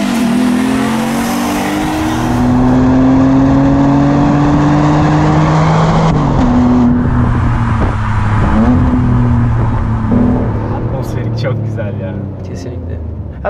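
Alfa Romeo 156 GTA engine revving while driving, a loud, steady harmonic drone whose pitch climbs and dips as the revs change, with people talking inside the car throughout.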